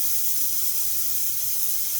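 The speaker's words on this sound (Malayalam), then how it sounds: "അപ്പോൾ നമ്മുടെ കുക്കറിൽ വിസിൽ വന്ന് തുടങ്ങി." A steady, even hiss of steam escaping under pressure from a pressure cooker while cooking chicken pulao, continuous and fairly close, with no voices.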